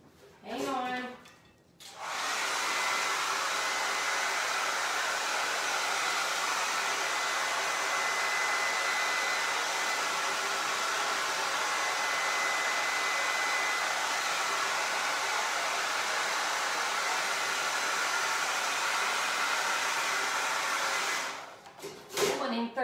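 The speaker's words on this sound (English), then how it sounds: "All right, I'm going to dry this real quick." A hair dryer blows steadily on glass and resin art for about twenty seconds, a loud constant whooshing hum that switches on abruptly and cuts off near the end, with faint handling noise before and after.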